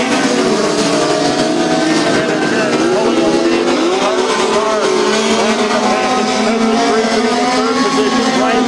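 Midget race cars roar around a dirt speedway during a POWRi National Midget League race, several engines overlapping in a loud, continuous high-pitched drone with shifting revs, while an announcer talks over them.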